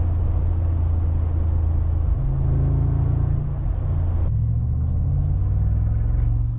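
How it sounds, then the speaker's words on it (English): A deep, throaty V8 engine rumble from a 2025 Mercedes-AMG G63 SUV holds steady and close, shifting pitch slightly as the vehicle pulls away, with no voices. "When I start to move, it has a really loud rumble, even in comfort mode."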